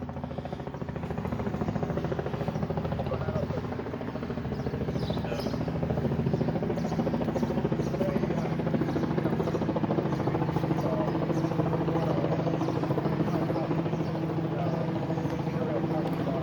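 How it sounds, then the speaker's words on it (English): A constant loud chopping rotor drone fills the air, a police helicopter close overhead at a scene where a commuter rail train struck a pedestrian in Boston, with a voice talking underneath. "Got a chopper up in the sky."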